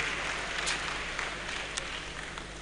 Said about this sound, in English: Can we have a round of applause for ourselves?